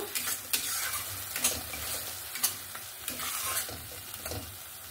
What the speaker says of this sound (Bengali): মশলাটা দিয়ে ভালো করে নাড়াচাড়া করে নিয়েছি।